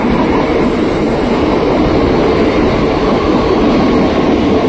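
A KRL commuter train rolls into a Jakarta station platform with a loud, steady rumble and rail roar that fills the whole stretch, no voices over it.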